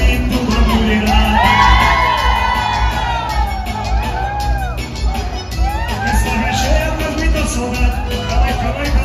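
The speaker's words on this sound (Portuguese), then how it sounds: "Cadê o grito da mulherada?" Women in the crowd at a live bailão dance show shout and whoop over loud band music, a dense sustained roar of cheering voices layered with music throughout.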